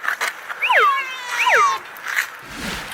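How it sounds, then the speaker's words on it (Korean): A stray street cat meowing up close: two loud, drawn-out rising-and-falling meows, with short chirps before and after, and outdoor rustling at the end. "이 길냥이는 또다시 울부짖으며 다가옵니다."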